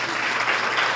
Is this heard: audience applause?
yes